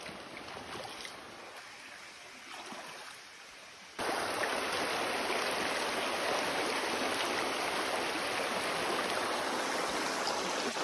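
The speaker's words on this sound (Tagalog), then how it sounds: "nakikita ko na yung ilog. Diyan kami." Mountain river flowing near a hiking trail, a steady broadband rush of water that starts soft and jumps suddenly louder midway, then continues as a constant close roar with no talking.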